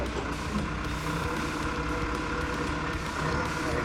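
A truck rumbles steadily while backing up a trailer loaded with old bulldozers, its engine droning continuously; faint beeping may sit under the engine noise.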